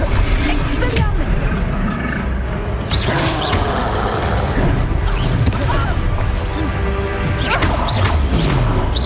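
Expelliarmus disarming spell in Hogwarts Legacy, with sharp magical whooshes, crashing impacts and clattering debris spread across a busy, loud battle scene, and brief voices mixed in.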